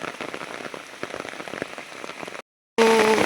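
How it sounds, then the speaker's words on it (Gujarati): Steady heavy rain in Santrampur pattering hard on a surface, dense and continuous, then a brief cut and a louder burst of downpour. "અમારે તો અત્યારે અહીંયા બહુ જ વરસાદ ચાલુ છે"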